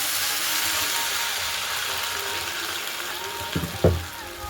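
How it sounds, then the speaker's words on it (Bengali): A spice mix frying in a pan for a Bengali chorchori of potato, onion stalks, cauliflower and flat beans sizzles steadily with a hissing crackle, then a short splash of water poured in near the end brings a brief louder burst. "এবার সামান্য পরিমাণে জল দিয়ে দেবো যাতে মশলাটা পুড়ে না যায়।"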